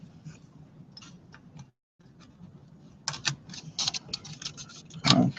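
An Amiga computer keyboard set back into place, with light clicks and taps that build into a louder clatter and a sharp knock near the end, close and alone without talk.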